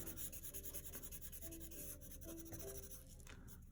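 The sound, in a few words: drawing a tree on paper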